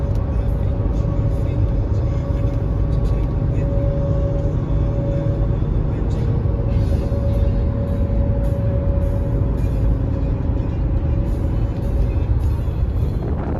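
An old Kenworth cabover truck, an Aerodyne, runs close by with a steady loud diesel rumble whose engine note rises slightly as it speeds up; the sound continues throughout.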